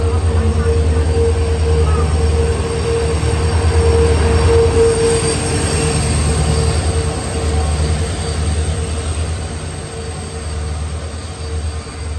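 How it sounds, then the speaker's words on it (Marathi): The Tutari Express arrives at Dadar station, rolling steadily past with a heavy low rumble and a sustained metallic wheel squeal, loud and close throughout. "फायनली ट्रेन आली आपली"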